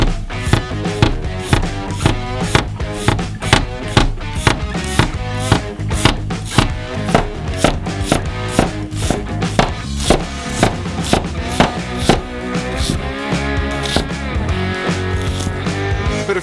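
Knife slicing an onion into half rings on a cutting board, sharp regular chops repeating in a quick steady rhythm, close and loud, with background music underneath.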